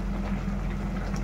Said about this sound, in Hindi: ये देखिए सब्जी में कितना अच्छा उबाल आया है।